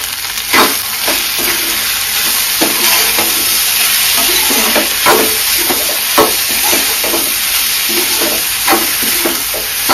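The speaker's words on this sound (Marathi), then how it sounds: "व्यवस्थित परतून घ्या।" Vegetables and coriander sauté in a hot pan with a constant loud sizzle, broken by repeated scraping and stirring strokes of a spoon against the pan. No talking.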